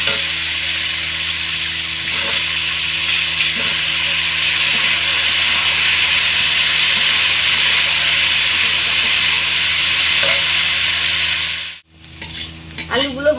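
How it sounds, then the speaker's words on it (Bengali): Turmeric- and salt-coated potatoes fry in mustard oil, giving a loud, steady sizzle that continues unbroken for most of the stretch before cutting out abruptly near the end, followed by a few brief clatters. "লবণ হলুদ মাখানো আলুগুলো ভেজে নেব।"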